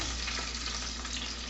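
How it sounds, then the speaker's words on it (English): A hot dog frying in bacon grease in a frying pan gives off a steady, close sizzle that stays even and unbroken throughout, with no talking over it. "the bacon grease in my frying pan, and I'm going to let that cook down"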